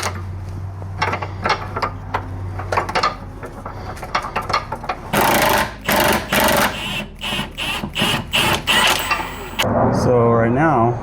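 Ratcheting and wrench clicks while loosening the rear subframe bolts on a car with five-link rear suspension, coming as rapid bursts of metallic clicking up close, with talk and mechanical noise around them.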